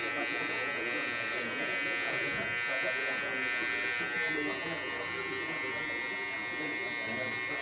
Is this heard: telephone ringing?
no